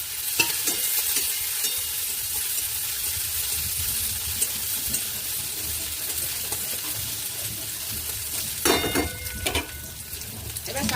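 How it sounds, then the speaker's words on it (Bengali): Dried chili, black cumin, slit green chili and crushed garlic crackle in hot oil for a leafy-greens tempering. A steady sizzle runs throughout, with a few sharper spatters and stirring scrapes near the end. "এগুলো সব দিয়ে শাকটা ফোড়ন দিয়ে নেব"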